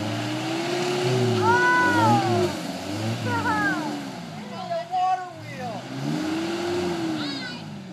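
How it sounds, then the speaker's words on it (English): A Toyota 4Runner stuck off-road revs its engine in repeated rising and falling surges, fairly close, while people talk and call out over it. "Dave, you need to hit the gas."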